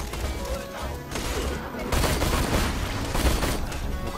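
A fully automatic gun rattles off rapid continuous bursts in the shooter game Borderlands 2, the dense gunfire loud and sustained with short pauses between strings of shots.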